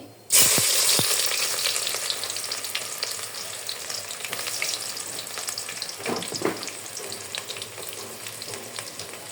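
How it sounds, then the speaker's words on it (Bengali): Chopped onion, added after cloves, hits hot oil with a sudden loud sizzle that settles into a dense, steady crackle, with scattered light taps of a spatula against the pan. "পেঁয়াজটাকে আমি ব্রাউন করে ভেজে নিব"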